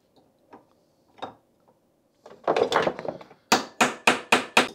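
Hammer blows on a metal brake part of a Trabant P60, starting with light scattered taps, then a burst of clattering, then five loud, evenly spaced sharp strikes close by.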